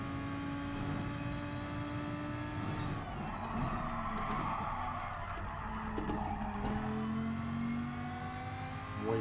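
A race car in Gran Turismo Sport skids under late braking on less grippy tyres, a sustained droning engine with tire squeal and scrubbing throughout, loud and close.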